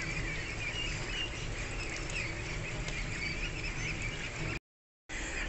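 Pekin ducklings on a duck farm fill the scene with a steady, dense chatter of peeping and quacking mixed with pattering, close and continuous, breaking off briefly near the end before resuming.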